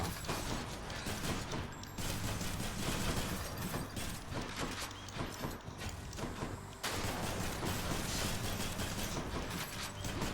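A cannon in the video game Hades launches shells in a dense, continuous barrage of mechanical clattering and booming impacts, loud and sustained with almost no pauses.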